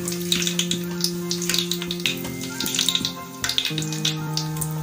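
Onions and spluttering tempering spices frying in hot oil for Bagara rice, a steady crackling sizzle with scattered sharp pops and occasional clinks of stirring, fairly close and alone without talk.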